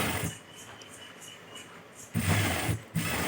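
Sewing machine stitching the slit of a chudithar, a steady soft mechanical whir with rhythmic needle ticking, growing louder and faster near the end, heard close and alone.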